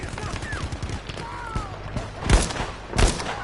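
Gunfire in a Battlefield V conquest match, with rapid automatic bursts, two loud close shots near the end and someone talking over the action.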